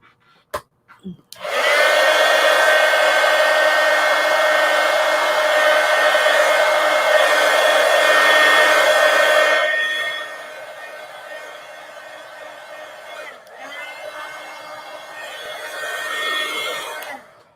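A hair dryer blowing on wet paint in a collage journal, a loud steady whine that starts abruptly after a few clicks, then drops to a softer setting partway through and keeps running to the end.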